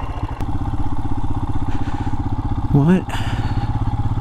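A Royal Enfield Himalayan motorcycle ridden off-road on a dirt obstacle course, its engine thumping steadily and close, with a brief rev and clatter, while a rider briefly speaks.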